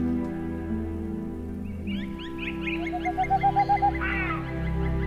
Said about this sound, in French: un chant se fait entendre. C'est celui qui annonce la présence du grand tétras.